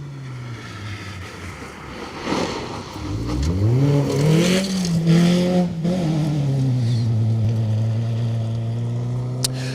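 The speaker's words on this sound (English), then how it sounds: "Mark Turner, Harry Mansfield in the Mini. Going nicely, a little bit quicker than this morning" Mini rally car on a rally stage at Greystoke Stages, its engine rising from a distant approach to a loud revving pass with gear changes, then a steady fading drone as it drives away.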